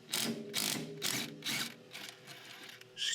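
A ratchet clicks in quick repeated bursts while removing a 14 mm pinch bolt from the fork of a third-generation Honda Prelude, the loud rhythmic pawl ratcheting coming in roughly five strokes, close and alone.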